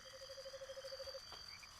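A game frog croaks in My Sims Agents, a steady run of evenly spaced repeated croaks over a soft ambient bed, ending after about a second with a brief chirpy cue.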